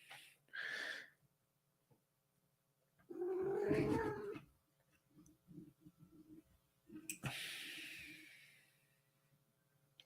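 A pet cat meows several times close by, with short nasal cries spread across a quiet room and a person talking between them.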